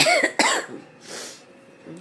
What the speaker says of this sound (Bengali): আমার কাশি আর কমবে না